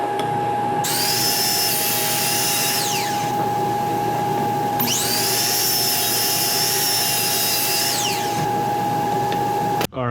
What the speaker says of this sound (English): I'm gonna cut a 45-degree angle here and a 45-degree angle here to make a brace